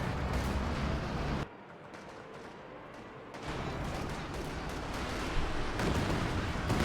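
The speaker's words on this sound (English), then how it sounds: "Oh, that was a big barrage." Artillery barrage in Company of Heroes 2, a dense, continuous rumble of distant booms and blasts that briefly drops away and then resumes as heavy shelling, with no talk over it.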